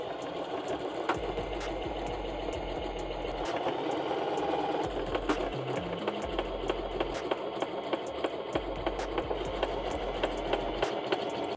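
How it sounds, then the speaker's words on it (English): Sewing machine running a straight stitch to join fabric panels for baggy shorts, a steady mechanical whir with a repeating clack throughout, fairly close and continuous with no talk. "Do a simple straight stitch, and then we're gonna follow it up with a zigzag stitch just to lock it in."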